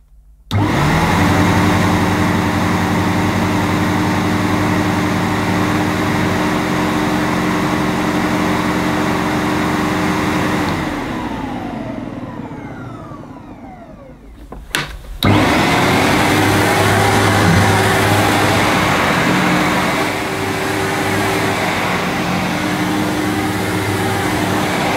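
Sebo Ensign Stealth upright vacuum cleaner runs with its brush raised off the carpet, a loud steady motor drone that dips and winds down briefly around the middle, then clicks and surges back to full strength.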